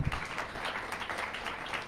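Brief round of audience applause for a speaker at a talk on actors and directors, moderate steady clapping filling the short stretch.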